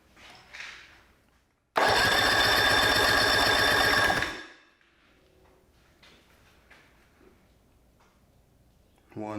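A Johnson 50 hp outboard motor cranks over in a single loud, rapid, chugging burst of about two and a half seconds, followed by quiet shuffling and faint talk.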